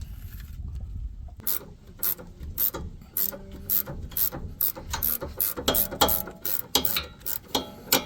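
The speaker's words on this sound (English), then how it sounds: "So we're gonna hold it still with an Allen, ratchet it out." A ratchet wrench loosens the sway bar end link nut on a 2011-15 Honda Civic, its pawl clicking in quick, irregular bursts of close, crisp ratcheting strokes after a short pause.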